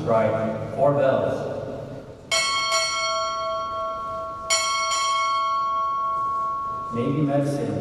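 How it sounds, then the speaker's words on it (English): Between bursts of someone speaking, a ship's bell at a U.S. Navy chief petty officer pinning ceremony strikes four times as two quick pairs, each ringing brightly and decaying slowly before the voice returns. "Time to strike four bells."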